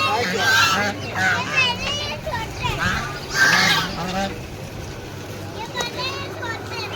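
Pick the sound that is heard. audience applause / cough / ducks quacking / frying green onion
ducks quacking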